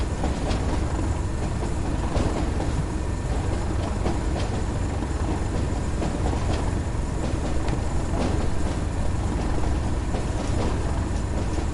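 A simulated passenger train runs on the Tees Valley line near Middlesbrough in Train Sim World, a steady, loud rumble of wheels and engine from on board, with no talking.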